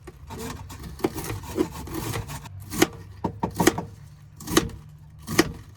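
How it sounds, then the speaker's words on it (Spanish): Kitchen knife finely slicing cabbage on a board for homemade sauerkraut, an irregular series of close crisp cuts and dull taps, some quick and clustered, others spaced apart. "Esta es una buena forma de practicar el corte fino de verdura"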